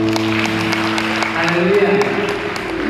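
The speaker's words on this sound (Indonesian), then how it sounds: "Ya boleh kasih tepuk tangan untuk Bapak." Wedding guests at a Batak wedding party clapping for the bride's father, moderate applause under sustained tonal music or hum, with a voice rising briefly in the middle.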